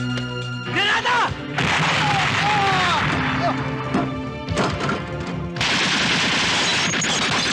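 Bursts of gunfire and crashing blasts from a Filipino action film battle scene, loud and chaotic, broken by short pauses, with shouted voices mixed into the din.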